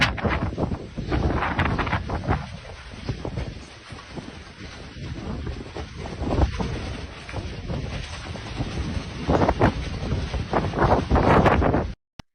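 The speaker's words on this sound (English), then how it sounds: "I think this is a tornado or a water spout" Strong gusting wind buffets the microphone near the water during a tornado or waterspout, a loud rumbling roar that swells and eases for about twelve seconds, with wave and spray noise mixed in, then cuts out.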